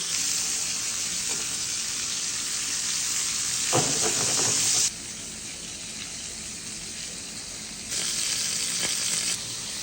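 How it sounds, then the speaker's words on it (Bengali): Koi fish fry in hot oil with a steady, loud crackling sizzle; midway a utensil stirs and scrapes briefly, then the sizzle drops quieter before surging again near the end. "কই মাছটা এপি টপির ঘুরায় খুব ভালো করে ভেটে নিয়েছি আমরা"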